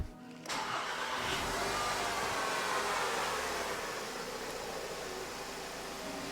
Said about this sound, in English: I think we need to start this car up and see how it runs before we call it fixed.